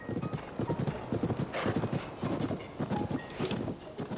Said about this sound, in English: You seem pretty fast for a horse with only two spurs.